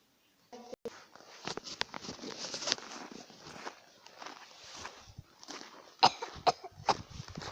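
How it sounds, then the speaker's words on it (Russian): Someone coughs repeatedly in a public place, muffled and irregular coughs scattered among shuffling footsteps and rustling clothing, with a few sharper coughs near the end. "Как кашляют в общественных местах?"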